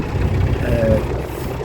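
A narrowboat engine on a canal cruise near Anderton, turned down to lower revs, gives a steady low rumble close by and runs evenly throughout with no talk.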